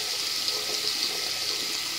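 Water runs steadily from a tap through an LED-lit faucet filter, a continuous close hiss and splash with no talking.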